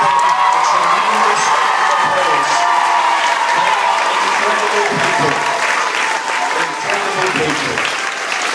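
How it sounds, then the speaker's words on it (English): A school audience applauds its four heads of house at a house championship event, with loud sustained clapping, cheering and whoops from a large crowd of children and adults, and voices carrying over it. "let's give them a tremendous round of applause"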